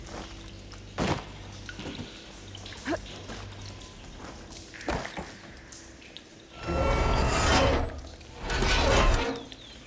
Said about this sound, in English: I think this will work with water leaking through the other distribution system.